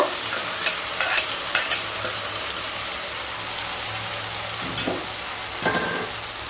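Fried potato and raw papaya are stirred into mung dal in a hot pan, with a continuous soft sizzle broken by repeated scraping and clinking strokes of a spatula, and no one speaking.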